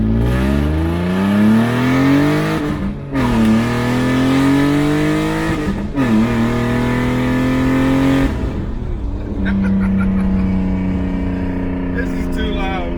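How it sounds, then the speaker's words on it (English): A BMW E36 drift car engine at full throttle, very loud and close, with rising revs climbing repeatedly through the gears, brief dips between pulls, and a settling idle-like drone near the end. "you have not heard me floor this car yet in this whole video."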